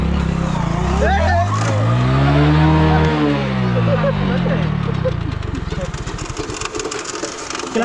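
A motorcycle engine being started again during a riding lesson revs up and falls in a rising, sweeping whine, then settles into a rough idle, with voices talking over it.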